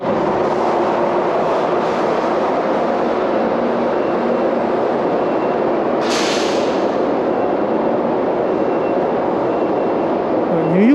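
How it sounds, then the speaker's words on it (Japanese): An American subway train gives a continuous, loud, broad roaring rumble that holds steady throughout, with a brief hiss midway and a rising squeal at the end. "アメリカの地下鉄ってこのゴーって音がなんか独特ですよね"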